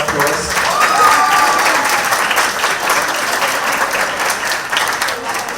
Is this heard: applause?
yes